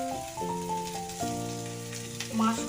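Mushrooms fry in a pan for a poha dish, giving a soft, steady sizzle close by under louder background music.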